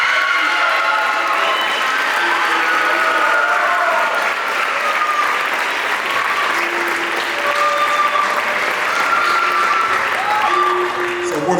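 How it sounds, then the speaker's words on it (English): An award recipient at a school winter and spring sports awards ceremony is met with sustained, even applause from an indoor crowd, loud and continuous throughout. "Let's hear a round of applause for Josiah Gaines."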